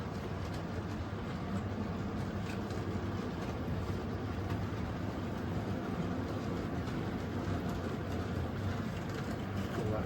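A steady low rumbling hum of a model train running continuously on track at slow speed, quiet and even throughout with no talking.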